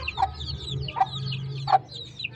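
A hen clucks three times in a slow, even rhythm, close and fairly soft, with faint bird chatter around it.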